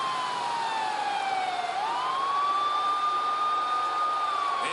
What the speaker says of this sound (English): The ambulance screeching into the arena here on Long Island.